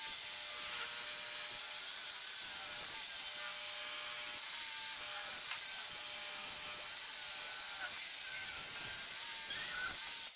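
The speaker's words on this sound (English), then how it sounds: "now I'm going to rip this one into 1x2s" Table saw ripping a wooden board lengthwise into 1x2 strips, a steady, continuous rasping cut lasting about ten seconds at moderate level with no talking.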